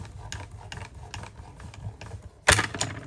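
A textured embossing folder fed seam first through a manual die-cutting machine in a card-making craft session gives a grinding, ratcheting crunch that swells loudly near the end, after a stretch of softer rhythmic clicks and mechanical ticking.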